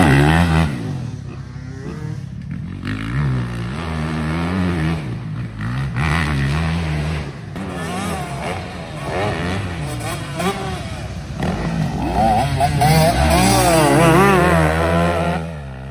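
Motorcycles roaring past at high speed in July 2024, loud engines rising and falling in pitch as several bikes sweep by, heard close over wind noise with no talk.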